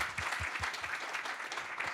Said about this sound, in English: Let's give a round of applause to our speaker.